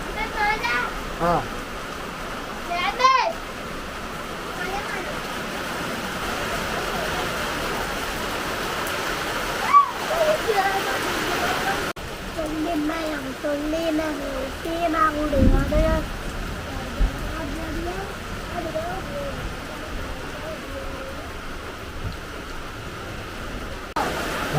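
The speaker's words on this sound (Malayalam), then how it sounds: "നല്ല മഴ പെയ്യാൻ തുടങ്ങി." Heavy rain falls steadily during a thunderstorm with wind, a dense continuous hiss close by, while people talk throughout and a voice is heard.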